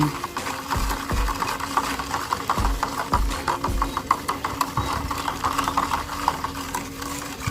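A spoon stirs a homemade pest-repellent mixture for plants in a container, with steady scraping strokes repeating about once a second and a constant low hum underneath, close and loud with no talking.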